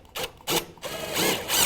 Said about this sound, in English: It's important when I'm tightening these screws that I don't over tighten that washer